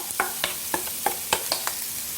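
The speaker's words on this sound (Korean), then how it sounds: "제일 먼저 볶아야 될 건 우리가 양파하고 파부터 먼저 볶겠습니다" Onion and green onion stir-fried in a deep pan, with a steady low sizzle under sharp, rhythmic clacks of a spatula scraping and tossing about every quarter second, close and clear.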